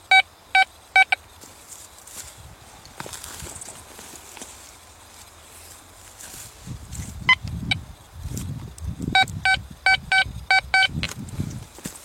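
A Quest Q40 metal detector gives short, sharp electronic beep tones, a few at the start and a quick cluster near the end, while digging and scraping sounds with low, muffled rustling run through the middle.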